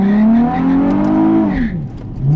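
A 2004 Nissan 350Z with a manual gearbox launches hard from a standstill, its engine note climbing loud and close, dipping briefly at a shift, then rising again, with a hint of tire noise.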